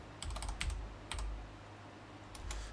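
Keys clatter on a computer keyboard in short bursts of quick, soft taps, up close and quiet, with pauses between.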